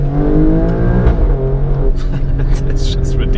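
The 510 hp engine of an Alfa Romeo Stelvio Quadrifoglio revs and pulls hard while driving, a loud close roar that rises and then eases, with someone speaking over it.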